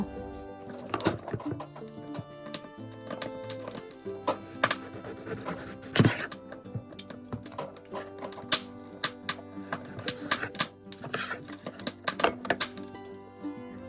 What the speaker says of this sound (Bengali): এখন আমি একটা লেবু কেটে নেব